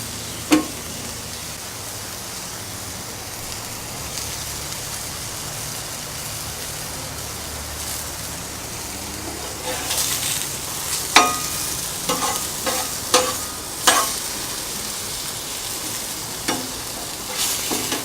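Squash sizzles in clarified butter on a Blackstone griddle, a constant close crackle, with sharp spatula scrapes and clicks coming in a quick series toward the end.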